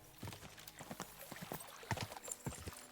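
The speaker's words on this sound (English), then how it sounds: "Oh, that's a horse." Horse hooves clip-clop steadily in the medieval video game Kingdom Come Deliverance 2, a quick uneven patter of hoof strikes at moderate loudness over a faint background.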